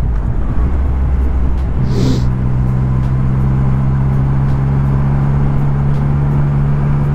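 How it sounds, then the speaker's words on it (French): A truck passes on the road, a steady low engine rumble that swells with a rising mechanical whine partway through, heard close, with a motorcycle rider waiting as it goes by. "on va laisser passer le camion"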